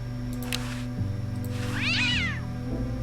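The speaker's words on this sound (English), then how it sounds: "What a pretty pussycat." A cat meows in the point-and-click adventure game Day of the Tentacle, one clear rising-and-falling meow over steady low background music and a few short game tones.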